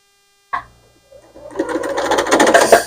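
A sewing machine stitching fabric place mats: one sharp click, a brief pause, then the motor spins up and runs in a fast, steady, close whirring chatter to the end.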